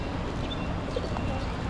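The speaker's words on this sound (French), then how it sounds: "il y a des pigeons qui se rapprochent mais dans tous les sens là" Pigeons coo close by outdoors near a basilica in Nagasaki, Japan, soft brief calls under a constant broadband wash of wind and ambient noise.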